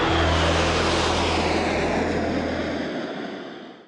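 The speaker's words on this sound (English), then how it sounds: "So that's the MiG-29 fighter." MiG-29 fighter jet aircraft giving a loud, broad engine roar with a steady low drone, close and sustained before fading away at the end.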